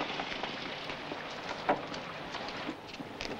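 Steady rain falls as a soft, even hiss of drops on a surface at night, with a few brief louder spatters. The sound is fairly faint and continuous, with no voices.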